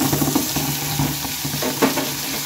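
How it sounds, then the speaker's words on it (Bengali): Raw carrot paste frying in ghee, a steady close sizzle with light stirring scrapes throughout, no voices. "ভালোভাবে পেস্ট করে এখন হচ্ছে এই ঘিয়ের মধ্যে আমি দিয়ে নেব"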